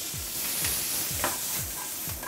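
Chopped vegetables frying in oil in a pan for braised rabbit, a constant close sizzle with rhythmic scraping strokes of stirring about every half second.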